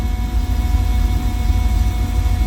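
Porsche 928 idling with the heat shield off and a failing fuel pump running, heard from just behind the car: a steady low engine rumble under a thin, constant electric whine, even and unbroken throughout, with no talk.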